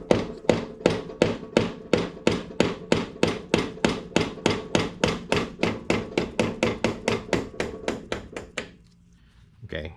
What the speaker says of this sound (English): I used a rubber hammer to tap on the end of this lay shaft or output shaft